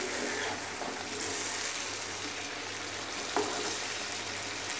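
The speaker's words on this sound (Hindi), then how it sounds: "ये देखें, दही के साथ चिकन को फ्राई होते हुए ऑलमोस्ट 5 मिनट्स हो चुके हैं।" Chicken fries with yogurt in a karahi, giving a constant loud, hissing sizzle up close that holds steady throughout, with one brief utensil knock and no voices.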